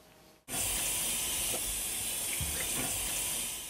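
Hands washed under a running tap: after a brief quiet moment, water suddenly gushes and runs steadily with a loud, broad hiss, faint splashing shifts within the flow.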